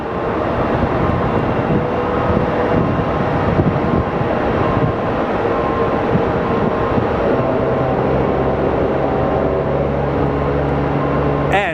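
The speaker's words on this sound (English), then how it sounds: "We officially hear our first train of the show." A loud, steady rumble of a train passing near Phoenix Sky Harbor Airport, continuous and close, with a low droning hum throughout and no talking.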